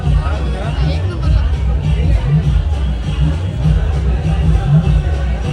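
A dense crowd murmurs and chatters at a tea shop opening, a continuous loud hubbub of overlapping voices close around the listener.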